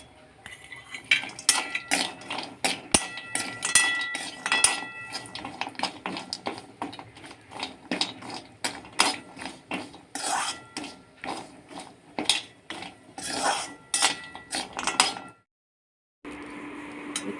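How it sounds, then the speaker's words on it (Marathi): Dried turmeric roots roasting with dry ginger in a metal kadhai, a spoon scraping and clinking against the pan in quick, uneven strokes, close up, with a brief silent pause near the end. "इथे आता कढईमध्ये मी हळकुंड घातलेले आहेत आणि हळकुंड पण छान भाजून घ्यायचे आहे"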